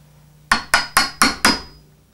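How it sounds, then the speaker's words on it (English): A chisel is driven with five quick, evenly spaced mallet blows to fit a wooden panel-bed joint, each strike loud, close and sharp with a short ringing decay, after a moment of quiet. "After a little work with the chisel,"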